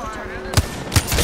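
A few sharp video game gunshots crack out, three distinct reports spaced about half a second apart over a low background, with a voice speaking nearby.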